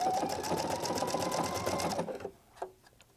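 A Pfaff Creative Icon sewing and embroidery machine stitching at a steady, fast rhythmic pace for about two seconds, then stopping, followed by a few faint clicks.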